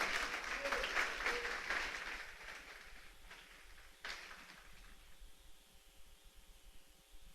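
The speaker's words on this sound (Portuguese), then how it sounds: "Você pode aplaudir o nome do Senhor?" A church congregation applauds, a burst of clapping that fades after a few seconds into a quieter, lingering patter with some room noise.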